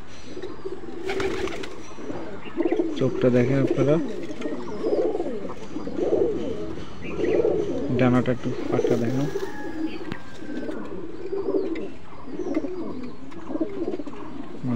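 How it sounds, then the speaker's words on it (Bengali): A male chot generation pigeon coos in repeated low, soft, throaty phrases at close range, with a brief flutter of wings early on; someone talks over and between the coos. "এটা একটা চট জেনারেশনের কবুতর"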